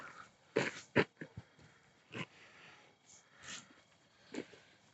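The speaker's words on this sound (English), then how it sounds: "Yes, I am walking my dog" A dog sniffs and snorts in short bursts close by while walking on a railway ground, with quiet outdoor background between the sniffs.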